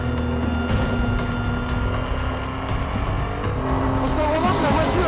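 A Renault Sport Trophy race car roars around the Nürburgring, its engine loud and sustained with a shifting pitch and a brief tire squeal. A voice may be faintly present.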